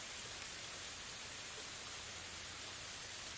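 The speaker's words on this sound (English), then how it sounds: "start tuning into the sounds of gentle rainfall around you" Gentle rainfall hisses steadily and softly, a continuous even wash of patter with no distinct drops standing out and no voices.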